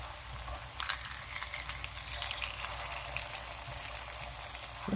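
Eggplant meatballs fry in a pan with a steady, fairly quiet sizzle and crackle and scattered small pops over a low hum.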